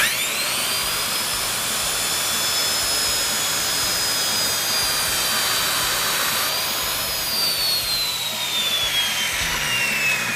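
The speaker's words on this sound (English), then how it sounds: "Then hold the square cut against your board and cut by guiding the saw along the edge of the" A power saw cuts a board along a square guide, its motor giving a continuous high, loud whine with a shifting tone held for the whole cut.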